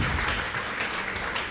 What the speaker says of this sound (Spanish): dele fuerte esas palmas al Dios de la gloria